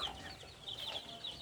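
Young chicks in a brooder pen, from day-old up to a month, give soft, high cheeping that repeats quietly over a steady low hum.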